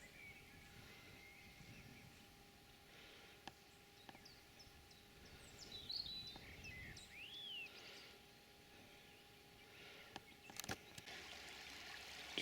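Stream water flows and trickles steadily along the River Swale, a soft continuous wash with occasional bird chirps above it and a few sharp clicks near the end.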